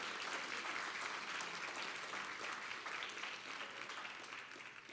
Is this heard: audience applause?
yes